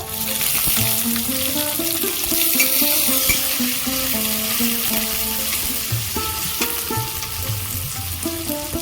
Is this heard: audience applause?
no